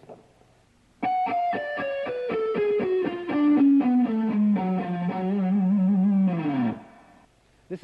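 A guitarist plays a loud, distorted electric guitar riff of rapid picked notes that descend steadily in pitch, ringing alone for about six seconds before stopping abruptly.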